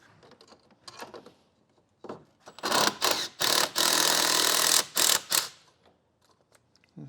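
A ratchet loosens 7/16 factory intercooler boot clamps on a second-generation Cummins, with rapid clicking bursts close up, separated by short pauses.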